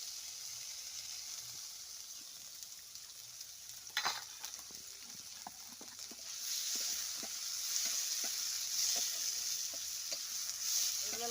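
Chopped onion, shredded garlic and green chili fry in mustard oil, a steady close sizzle that swells louder partway through, dotted with light taps of a stirring utensil; no one speaks.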